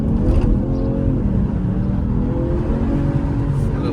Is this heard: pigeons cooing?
no